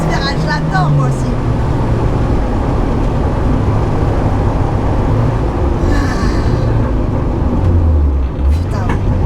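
A Renault 5 GT Turbo drives hard through a corner, its engine droning loudly and steadily with shifting pitch, while people talk inside the car over the noise.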